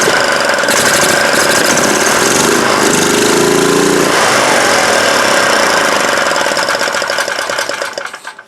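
A Honda GX390 or Predator 420 small engine in a golf cart conversion catches on choke and runs loud and steady close by, its rough chugging idle holding for about seven seconds before being cut off.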